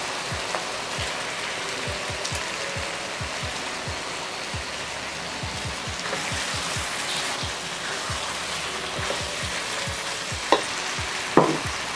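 Shrimp hit a hot pan after the chili paste has cooked down, for spicy sweet balado shrimp with long beans, giving a steady dense sizzle with scattered pops and occasional stirring clatter near the end.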